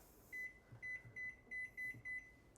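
A kitchen timer being set gives six short, bright electronic beeps in a quick even rhythm, clear against a quiet room with no talking.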